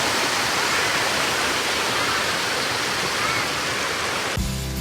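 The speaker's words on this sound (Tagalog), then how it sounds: "Pakinggan nyo kung gaano ka-peaceful yung tunog ng tubig." Kapitan Falls, a waterfall whose flowing water makes a loud, continuous close-up roar and hiss throughout, with a brief different sound breaking in at the very end.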